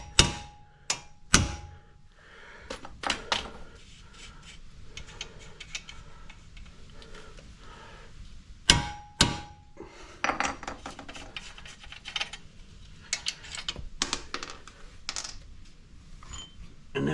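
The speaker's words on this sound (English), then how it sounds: "now I'm just going to tap them with a hammer" Sharp metallic taps ring out irregularly, some single and some in quick clusters, as a hammer strikes strut bolts up close on a Holden Captiva.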